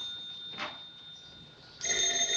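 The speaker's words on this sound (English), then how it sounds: "answer the phone once in a while" A telephone rings in a 1936 screwball comedy setting: a brief bell burst near the start, then a steady ringing tone held to the end, fairly quiet with no talk.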